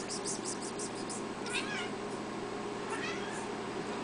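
A house cat meows in a short series of repeated calls, fairly close and clear over a steady background hum, with no talk over it.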